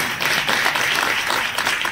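Festival crowd applauding at a Holi-day religious celebration in Savda, steady dense clapping from many hands sustained throughout, fairly loud and close, with no voices.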